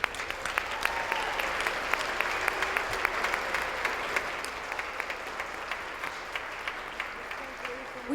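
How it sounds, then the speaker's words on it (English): Sustained applause from an audience honoring alumni at a school district's Distinguished Alumni Program ceremony, steady dense clapping with individual claps popping through, moderately loud and continuous throughout. "How about an applause for all our honorees?"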